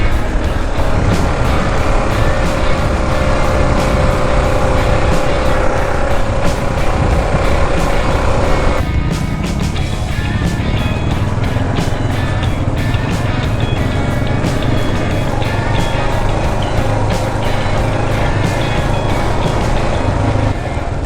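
A big group of dual sport motorcycles, Kawasaki KLR 650s among them, riding a trail together, with engines droning loud and close throughout and the pitch shifting as the bikes pass and change gear.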